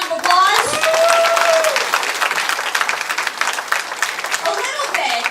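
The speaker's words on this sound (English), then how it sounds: "Will you give him another round of applause?" Crowd applause at a Wisconsin political rally, loud sustained clapping filling the whole stretch, with cheers and a voice calling out over it at the start.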